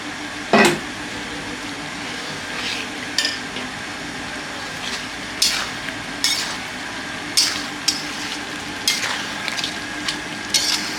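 Potatoes and capsicum fry in spice masala with a steady low sizzle, while a spoon scrapes and knocks against the pan at irregular intervals about a dozen times.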